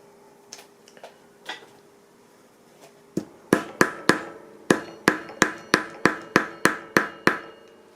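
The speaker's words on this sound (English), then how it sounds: "this is the hammering" A few scattered taps give way to a steady run of sharp hammer strikes on a pricking iron into leather, about a dozen even blows close by.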